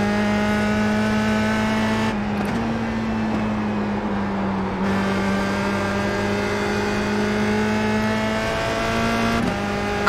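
Formula race car engines in iRacing at the USA International track hold a loud, sustained high-pitched drone, briefly dipping in pitch partway through before climbing back to a steady scream.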